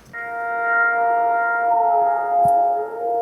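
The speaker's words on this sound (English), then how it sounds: "It's this weird little wind harp thing." A sustained, wavering harmonic drone from a wind harp sounding in the wind, several layered tones humming steadily, plus a brief faint click partway through.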